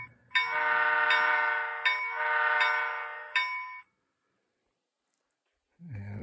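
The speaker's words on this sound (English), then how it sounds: "Horn." A model train's electronic horn on a battery-powered dead rail setup blares in several sustained multi-tone blasts with short breaks, loud and close, then cuts to silence before a faint rustle.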